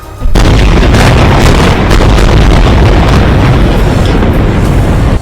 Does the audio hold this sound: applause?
no